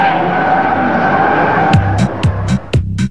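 A Japanese-style import tuner car drifts, its engine droning steadily before a run of short, loud tire squeals with revving bursts that come and go in quick succession, up close.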